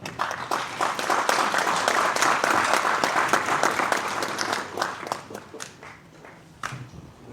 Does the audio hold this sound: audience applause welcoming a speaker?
yes